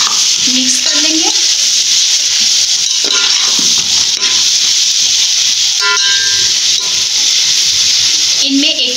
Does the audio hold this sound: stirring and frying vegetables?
yes